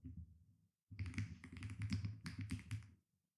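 A computer keyboard being typed on in a Windows search box, a short burst of quick close clicks and taps after a brief pause, fairly quiet with no talking.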